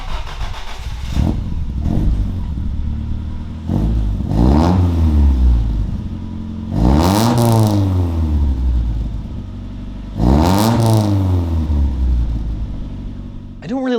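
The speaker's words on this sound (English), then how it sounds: "I did get a clip of the old exhaust, so you can kind of hear what that was like with the MagnaFlow" A Toyota AE86 with a MagnaFlow exhaust revs repeatedly, engine climbing and falling in several loud, raspy sweeps over a steady idle, close to the microphone.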